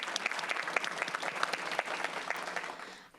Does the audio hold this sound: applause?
yes